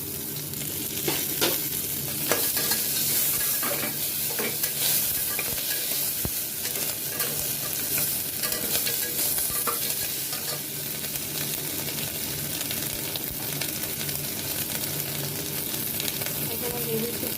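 Onion, ginger paste and goat trotters fry hard in a little oil for paya soup, a loud, dense, continuous sizzle with scraping stirs running throughout, close up.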